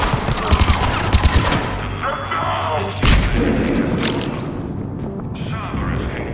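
Hostile machine gun fire in Mass Effect 3 rattles in quick bursts amid heavier booms and impacts, loud and close, with a voice speaking over the combat.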